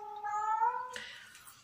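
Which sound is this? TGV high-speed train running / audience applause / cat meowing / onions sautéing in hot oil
cat meowing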